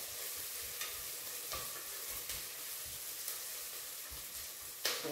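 Ingredients frying in ghee in a pan for millet dal khichdi: a quiet, steady hiss with a few soft stirring scrapes and a brief louder scrape near the end.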